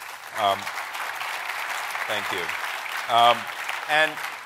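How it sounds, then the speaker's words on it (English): An audience at a tech industry summit applauds: a steady bed of clapping across the room while someone speaks briefly over it several times, including a short thanks. "Please give them a round of applause."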